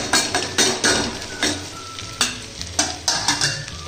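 Onions stirred into garlic-ginger paste frying in a hot pan for dal makhni, steady sizzling broken by a regular series of scraping spoon strokes about every half second, close and fairly loud with no talk.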